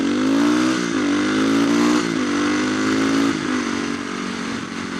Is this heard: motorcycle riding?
yes